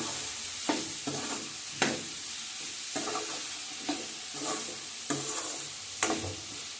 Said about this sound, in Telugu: ఇది దోరగా వేయించుకోవాలండి.